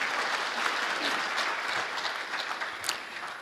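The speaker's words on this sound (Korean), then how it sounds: "큰 박수 부탁드립니다." Steady applause from a seated audience at a Rotary club presentation, many hands clapping together at a moderate distance, continuous and even with no voices over it.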